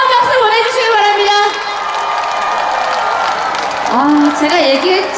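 Crowd at a Korean outdoor music festival cheering, whooping and clapping for a singer after a song, loud and continuous, mixed with an amplified host's voice and music.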